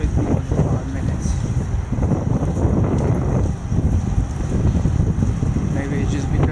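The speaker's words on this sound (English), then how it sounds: "Maybe it's just because the area that I was in, it's very windy." Strong wind in Paris buffets the microphone on a bicycle delivery ride in a steady, rumbling roar that barely lets up, with a brief dip midway.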